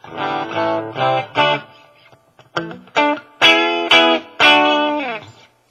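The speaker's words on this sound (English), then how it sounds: "they call it the classic gain. I've got the gain turned way down on it." Electric guitar played through a Marshall DSL20HR amp on the classic gain channel, gain set low, both pickups at half volume, with reverb. Several ringing strummed chords sound alone, separated by short pauses.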